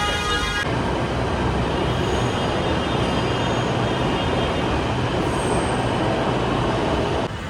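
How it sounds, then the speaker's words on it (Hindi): A metro train runs with a continuous loud rolling roar and rattle of wheels on track, steady and close throughout, with faint high squeals of wheels near the middle and end. "आज हम पब्लिक ट्रांसपोर्ट करने वाले हैं जो कि है मेट्रो"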